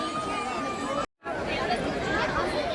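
Pilgrims thronging the Dwarka temple fill the air with steady overlapping chatter and murmuring voices, close and busy, broken by a brief silent cut.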